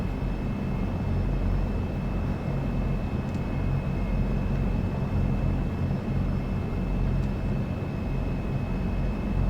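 Airliner engines in Flight Simulator 2024 hold a steady, loud, even drone as the plane rolls onto the runway, with a faint high whine above the roar and no one speaking.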